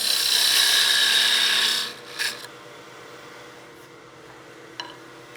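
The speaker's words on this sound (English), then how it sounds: "This is a beading and parting tool. This gives me a really good tool to remove a lot of material" A beading and parting tool cuts a spinning wooden piece on a lathe, giving a steady, close, scraping hiss for about two seconds. The cut then stops, leaving quiet with a couple of light knocks.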